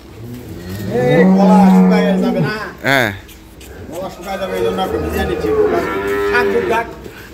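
A dairy cow on a farm moos loudly and close by, long drawn-out calls with a brief break, while people talk over and between the moos.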